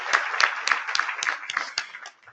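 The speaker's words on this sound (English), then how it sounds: "We just need to give him a hand applause right now" Audience applause at a plenary session: a close, steady run of about nine distinct claps at an even rhythm, thinning out and fading at the end.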